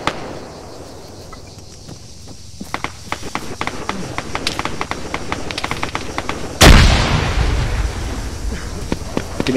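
In a military video game, a loud explosion erupts midway through scattered gunfire cracks, with a sharp blast followed by a rumbling tail as shots continue.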